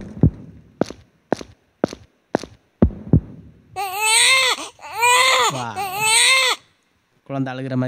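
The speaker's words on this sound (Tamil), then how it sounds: "குழந்தை அழுகிற மாதிரி இருக்குது." A baby-crying sound effect played on a Casio CTX9000IN keyboard: a few soft thumps, then three loud, sustained wailing infant cries with brief gaps, and a short fourth cry starting at the end.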